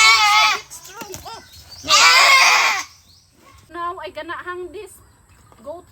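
A noisy goat bleats loudly and close in several long, harsh cries separated by pauses, and a shorter quavering call follows. Quiet speech and handling sounds fill the gaps.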